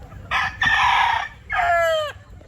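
A Sweater gamefowl rooster crows twice at a gamefarm, two long harmonic calls close by with a short gap between them, standing clear against a quiet outdoor background.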